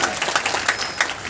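Audience applause at a business meeting in Gurunanak Bhawan, Ludhiana: a crowd clapping steadily with irregular loud claps, close and continuous.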